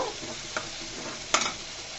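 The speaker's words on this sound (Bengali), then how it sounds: "ভালো করে মশলাটাকে কষিয়ে নিব।" Spice paste stir-fried in oil with green chilli slices, for a dish of underground potatoes: a steady soft sizzle broken by two brief scraping stirs, close and alone.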